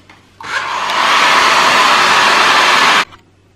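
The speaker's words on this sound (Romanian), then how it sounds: "O să uscăm puțin cu uscătorul de păr" A hair dryer blows on a damp decoupaged glass plate, a loud steady whooshing roar that switches on, runs for about two and a half seconds, then cuts off abruptly.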